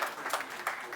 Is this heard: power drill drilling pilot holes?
no